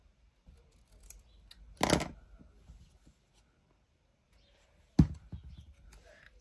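Scissors cut paper Halloween ephemera in two quick, crisp snips a few seconds apart. Faint rustling and handling noise fill the quiet space between them.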